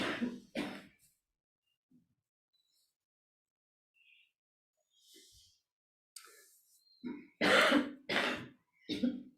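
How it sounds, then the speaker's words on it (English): Several short, sharp coughs and throat clears close by, bursting out in clusters with quiet gaps and faint breaths between them. "Excuse me, coughing."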